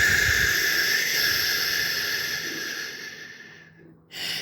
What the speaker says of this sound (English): physiological sigh, and that is double inhale and long exhale